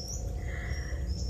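A great kiskadee (bem-te-vi) sings a few thin, high whistled notes at a distance, heard over a steady low rumble of background noise.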